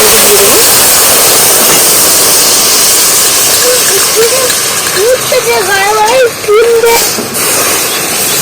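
Dissolved powdered milk hits hot sugar caramel, raising a steady, loud broadband sizzle and hiss that runs throughout, with someone talking over it.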